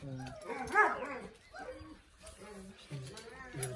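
A dog barks and whimpers in short irregular bursts close by, mixed with a voice speaking Turkish outdoors, the barking rising loudest near the start and recurring in brief yips.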